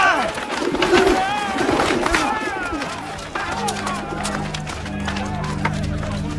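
Pigeons coo and flutter amid a busy crowd, with wingbeats and murmuring voices mixed into a noisy, reverberant space.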